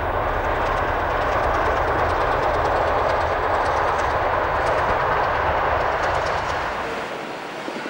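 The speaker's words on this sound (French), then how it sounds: "L'échappement doux et régulier de cette Pacific bavaroise témoigne du bon fonctionnement de cette machine" A Bavarian Pacific steam locomotive running with a soft, regular exhaust makes a loud, steady rumbling roar with faint rhythmic clatter, fading slightly toward the end.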